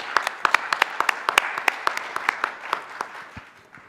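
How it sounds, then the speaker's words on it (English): A small audience at a climate innovation keynote panel gives a short round of applause for the judges, with distinct sharp claps standing out near the mic and fading away within a few seconds. "a quick round of applause for our judges"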